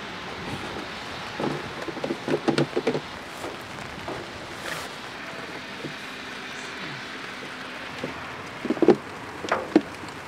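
Steady rain hiss fills the background throughout, with scattered louder taps and knocks on top and occasional wind rumble, moderately loud with no clear voices.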